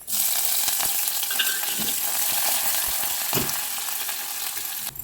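Green chillies, ginger and curry leaves sizzling in hot tempering oil, a loud steady crackling hiss that fills the clip, with a few soft stirring knocks.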